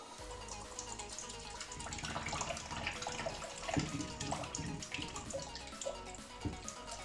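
Dirty water draining out of a pump, a steady splashing gush with dripping and gurgling, continuous and close.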